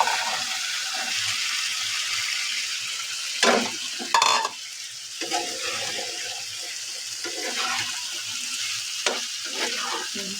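Potatoes frying and being stirred for a samosa filling, a close sizzle broken by a few louder scraping stirs and clatters, with no talk over it.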